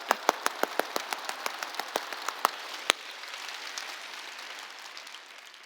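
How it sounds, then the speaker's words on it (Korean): A church congregation at a Wednesday worship service claps loudly in a steady rhythmic beat at first, then breaks into denser, continuous applause that gradually fades. "박수 세게 치라니까"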